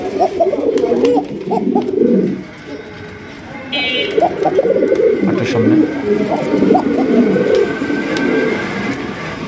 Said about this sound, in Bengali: দর্শক এখানে রয়েছে একজোড়া অ্যারাবিয়ান ককা। আমি একটু আপনাদের দেখায় দেই, এটা ডাকটা আমি দেখায় দিই